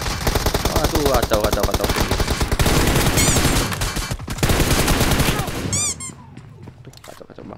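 Rapid automatic gunfire in a video game firing at an enemy car, loud dense bursts with in-game effects, and a player's voice briefly exclaiming near the end.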